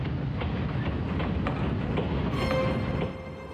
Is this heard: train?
yes